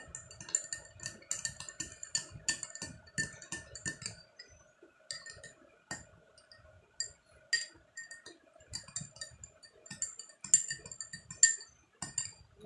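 A spoon stirs yogurt sherbet in a glass, clinking against the sides in quick irregular taps, close and fairly quiet, with brief pauses between bursts of stirring.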